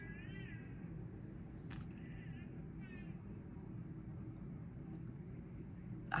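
A few high, wavering cat-like cooing cries from outside, faint and distant over a steady low rumble of background noise, each lasting under a second with gaps between.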